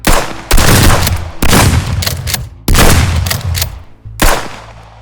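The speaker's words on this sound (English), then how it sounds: "gunfire." Gunfire sound effect: several loud, close bursts of rapid shots in quick succession, each volley cutting in sharply and ringing out briefly before the next, with short gaps between them.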